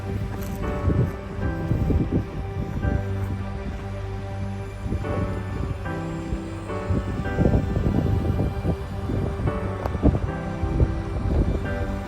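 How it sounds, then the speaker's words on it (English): Gusty wind buffets the microphone beside a motorhome at the top of Loch Long, low rumbling bursts rising and falling steadily throughout, with no voices. "It's just a wee bit windy past the van."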